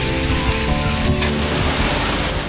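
Steady, loud rainfall pours down continuously in a Punjab city during a stretch of wet weather, a dense even hiss with no pauses and no voices.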